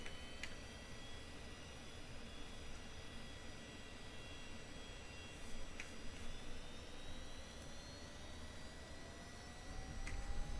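A jet engine spools up during startup in the DCS World flight simulator, a steady broadband roar with a thin rising whine building slowly, faint clicks scattered over it, no voices.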